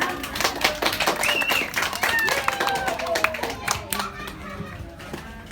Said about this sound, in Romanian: Nu-i așa, dragi invitați, că merită să-l aplaudați?